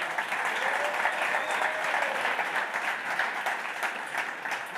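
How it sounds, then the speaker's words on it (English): Audience at a startup awards ceremony applauding the nominees for an award, a continuous wash of clapping from a crowd at moderate distance, sustained evenly from start to finish. "please give a round of applause for the nominees for the Bootstrapper Award"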